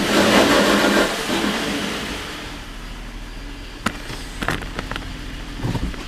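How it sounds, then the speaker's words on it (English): A 2011 Ford Explorer in drive with a faulty driveshaft, an engine rumble that fades, then scattered sharp clunks and knocks from underneath the car. "some weird sounds were coming from the bottom of the car"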